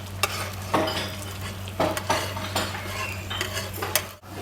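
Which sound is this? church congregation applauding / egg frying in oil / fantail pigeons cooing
egg frying in oil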